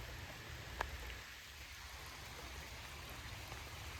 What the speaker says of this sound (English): And of course it's raining.